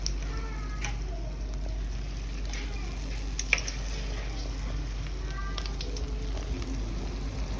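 Plantain puff puff batter frying in hot oil, a continuous close sizzle with scattered pops and crackles, steady throughout.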